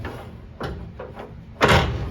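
Tailgate latch on a 1959 Ford wagon pushed shut by hand, giving a few light clicks and rattles followed by a louder solid clunk as it closes, fairly close.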